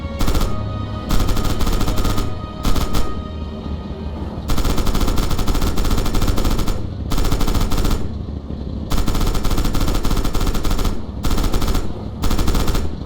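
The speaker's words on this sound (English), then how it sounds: "Open fire with the coax MG on those targets." In Red Orchestra 2: Heroes of Stalingrad, a tank's coaxial machine gun fires long, loud, continuous bursts with short pauses between them, rapid and heavy, with no voices over it.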